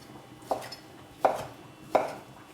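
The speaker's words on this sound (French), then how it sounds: "vous allez venir découper des gros morceaux" A knife chops a heel of white ham into big chunks on a cutting board, three sharp, separate chops spaced about a second apart, close and clear with no talk.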